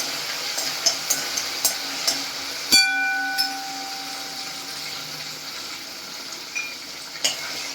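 Food sautés in a pan for matar paneer, a continuous crackling hiss with light spoon taps throughout and one ringing metallic clank partway through.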